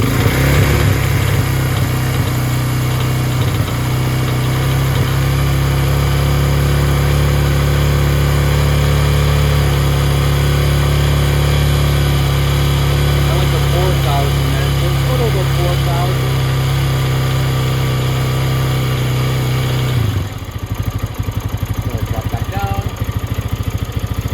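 A Lifan KPX 250cc dual sport motorcycle engine runs loud and steady at close range for about twenty seconds, its drone holding even before it shifts and fades in the final seconds.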